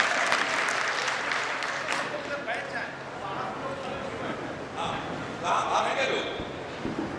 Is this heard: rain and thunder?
no